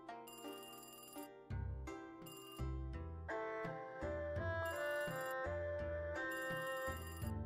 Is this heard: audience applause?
no